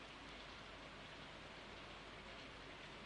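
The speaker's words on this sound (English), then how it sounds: "listen to the rain outside from my farm" Rain falls outside on a farm, a dense, even hiss of drops that stays steady and faint throughout, with no voices.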